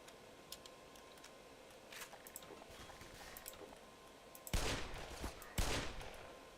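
A revolver fires in the Black Mesa video game, with two loud shots standing out over a faint, ticking game background.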